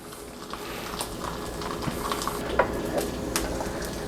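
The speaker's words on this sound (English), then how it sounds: "you can just hear that sizzle of them" Steady close sizzling of pepperoni crisping in a pan, with occasional light scrapes and clinks of a utensil, no voices.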